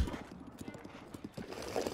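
A horse in the video game Breath of the Wild clops along with rapid, evenly spaced hoofbeats, close and clear, and lets out a short neigh near the end, with no talking over it.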